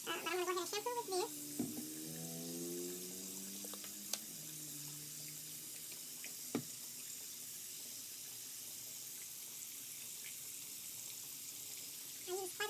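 Water runs from a faucet into a sink while a hair closure is shampooed, a steady broad hiss with brief splashes and handling sounds, and someone speaks briefly near the start.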